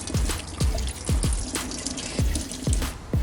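Water splashes and drips in a quick, regular series of close, distinct plops while part of a picture frame is being washed.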